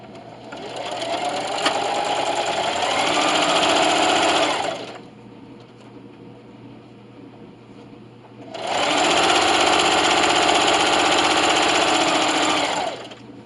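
A sewing machine runs a straight stitch along the seam of a self-binding receiving blanket in two long, steady bursts of whirring motor, with a quiet pause between them.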